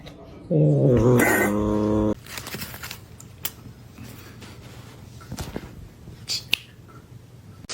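A cat gives a loud, harmonic yowl for about a second and a half near the start, then quieter rustling, clicks and faint background noise follow.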